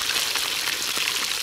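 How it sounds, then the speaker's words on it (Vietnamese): Small fish fry in hot oil in a pan outdoors in a field, giving a dense, continuous crackling sizzle heard up close, steady throughout with no voices. "Cho em chiên ạ."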